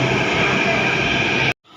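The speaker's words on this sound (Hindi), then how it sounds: "तो मंडी हाउस पहुंच गए हैं, यहाँ से पकड़ेंगे नेहरू प्लेस की मेट्रो।" A Delhi Metro train at Mandi House station gives off a loud, steady rumble and whine that cuts off abruptly, followed by a brief lull before faint noise returns.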